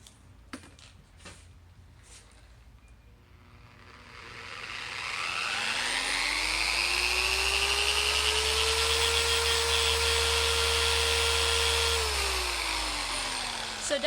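A Maxshine 15mm long-throw dual action polisher spins up slowly after a few clicks, rising to a steady high-pitched whine with a low hum beneath, running loud for several seconds before winding down slightly.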